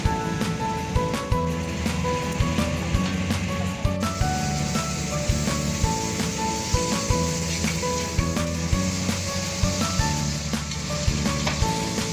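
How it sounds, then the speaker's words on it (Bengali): Asafoetida sizzling in hot oil, a steady dense crackle and hiss close by with scattered pops, running unbroken throughout with no voices. "গরম তেলে প্রথমে হিং দিয়ে দিলাম।"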